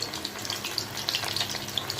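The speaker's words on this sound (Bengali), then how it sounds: "কড়াইতে তেল বসিয়ে দিয়েছি তেল একদম গরম হয়ে গেছে এবার একটা একটা করে মধ্যে দিয়ে দেব দিয়ে লাল লাল করে ভেজে নেব" Egg spring rolls deep-frying in very hot oil in a wok, a busy crackling sizzle with bright pops and spits, close and steady.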